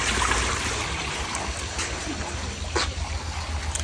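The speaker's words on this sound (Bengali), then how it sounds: "জলটা ফেলে দিচ্ছি বলো এগুলো জলটা ফেলে দিই" Water poured away indoors, a steady splashing trickle that runs without a break for a few seconds, close by and moderately loud.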